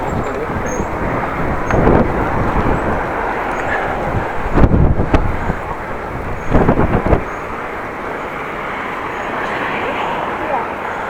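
Strong outdoor wind roars and buffets across the microphone in a cold, exposed spot, a broad steady rush with a few louder gusts, while a person talks over it.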